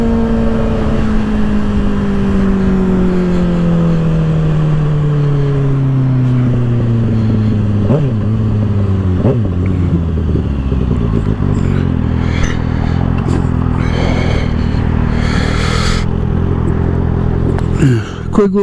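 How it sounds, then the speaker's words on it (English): A 2024 Kawasaki ZX-6R with an M4 exhaust rides a freeway, its engine droning loud and close with falling pitch sweeps as it shifts and revs, wind rush and clatter layered over the steady roar. "Hope you guys, got to hear the exhaust and stuff."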